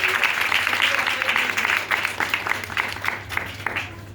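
Audience clapping at a Christian prayer gathering, a continuous wash of many hands applauding together with steady density, fairly loud and filling the room, with a faint low hum beneath.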